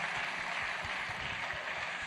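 Steady audience applause at a tech fair honouring a bank's founder and chairman, a dense wash of many hands clapping at an even level throughout, with no voices on top.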